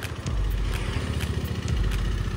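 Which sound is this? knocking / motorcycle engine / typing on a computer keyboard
motorcycle engine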